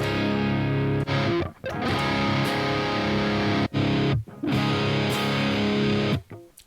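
Heavily distorted electric guitar played through the Neural DSP Archetype Nolly amp plugin on a prog rhythm tone: loud, dense chugging chords in sustained blocks, cut by brief muted stops, ending in silence.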